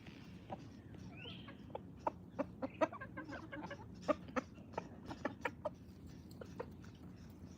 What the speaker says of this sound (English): The rooster, a gentleman. He don't eat the food.